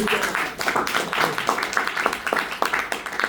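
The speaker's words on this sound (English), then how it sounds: "So round of applause for that." Audience applause at a Toastmasters-style speaking session, a dense patter of many hands clapping at moderate loudness for about three seconds, with no clear speech over it.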